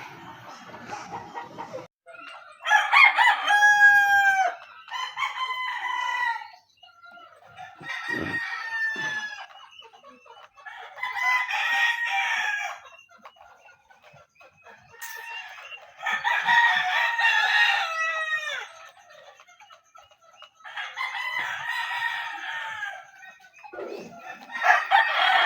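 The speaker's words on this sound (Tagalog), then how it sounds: "Mo ni mga manok." Roosters crow repeatedly in long, loud calls among clucking chickens in a rural yard in northern Cebu, the Philippines, with the crows recurring every few seconds over a quiet background.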